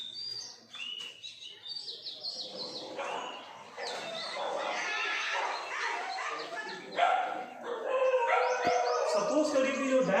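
Dogs bark repeatedly in the distance, sharp yaps scattered through a continuous backdrop of chirping birds, with a louder flurry of barking near the end; no voices.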